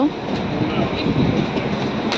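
Train at a station in Denmark, a loud, close rumble of rolling wheels and machinery with a busy station ambience and voices mixed in.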